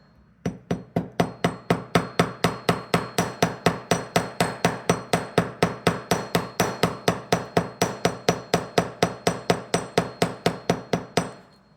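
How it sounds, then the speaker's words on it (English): Small hammer striking jewelry wire to flatten an arc for decorative chain and earring components, a long steady run of about forty evenly spaced metallic taps, close and crisp, with no talking. "I'm going to hammer the arc on this, and I'm going to start on the outside here"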